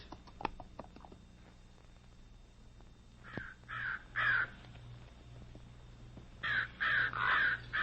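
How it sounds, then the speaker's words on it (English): Crows caw in a radio-drama sound effect, several harsh calls in bursts of two or three, loud and fairly close, with a pause between groups and no talk over them. "What in tarnation's the matter with them crows, Dan?"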